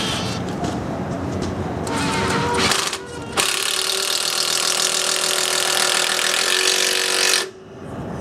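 A DeWalt DCS380B cordless reciprocating saw cuts through a nail and a large screw, a loud, harsh, sustained buzzing and grinding that stops abruptly, then starts again.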